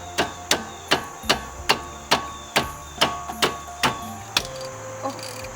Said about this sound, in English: now I'm going to remove the lower caliper bolt